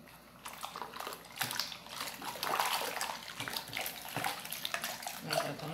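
Water runs and splashes steadily while rinsing during homemade detergent making, a continuous close tap-like flow with small bursts, and no talk over it.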